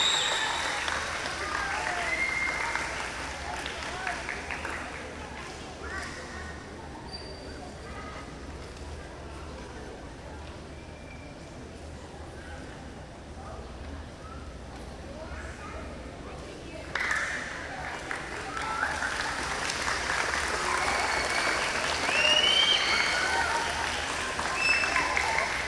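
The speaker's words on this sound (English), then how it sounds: "give them a big round of applause" An audience at the Summer GT Technology Expo claps in sustained applause for students and presenters, a dense crowd patter that swells louder toward the end, with a voice speaking over it at times.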